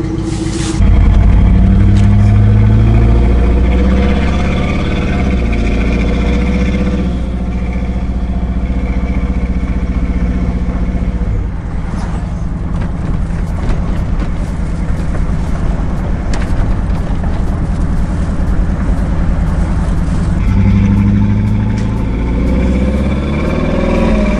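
A Ford Lightning pickup truck drives steadily, its loud, continuous drone heard from the cabin with a low rumble that rises and falls slightly over time, with no voices.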